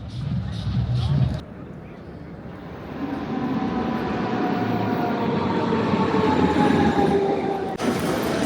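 A train in Cologne rumbles along the rails with a steady low roar and rising whine, heard from inside the carriage after a brief burst of talk at the start.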